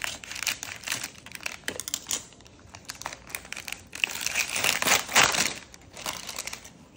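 Plastic and cardboard toy packaging for a Polly Pocket poodle set is cut and pulled open, producing quiet crinkling, rustling and tearing in irregular bursts, heard close with no speech.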